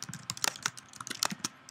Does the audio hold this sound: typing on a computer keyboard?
yes